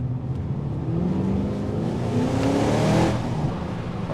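A 2017 Holden Maloo GTS-R V8 ute accelerating hard in first gear, its engine note rising in a loud, continuous roar that swells and peaks near the end, with no talk.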